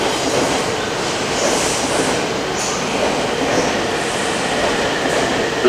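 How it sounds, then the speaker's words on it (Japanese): A Shinkansen train rolls into a platform at Tokyo Station, producing a steady, loud rumble of wheels and rail noise with faint squeals and clatter, continuous throughout with no talk over it. "列車が進入中です。"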